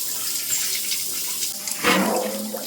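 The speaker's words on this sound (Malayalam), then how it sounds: "ഇനിയിപ്പോൾ ടാങ്കിൽ കുറച്ച് വെള്ളം നിറച്ചതിന് ശേഷം" Tap water runs into a home fish tank during cleaning, a steady rushing splash that swells louder toward the end as the flow strengthens, close by with no talk.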